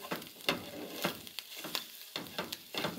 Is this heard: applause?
no